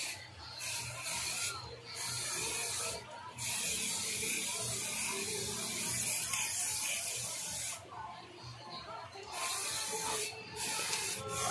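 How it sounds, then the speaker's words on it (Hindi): Paint is sprayed onto a motorcycle chain cover in light, repeated coats, a steady close hiss with brief pauses between bursts and no talking. "इसको अच्छा से इस तरह से आप पेंट करना है थोड़ा थोड़ा करके"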